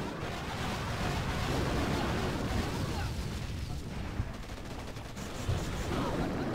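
Boom Beach mobile game battle with rocket launchers pounding troops: a dense, continuous barrage of booming blasts and gunfire, loud and unbroken across the whole stretch.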